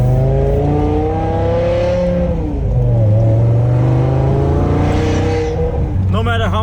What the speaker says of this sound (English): No matter how much trouble this car gives me, my V10 sound kind of makes it worth it.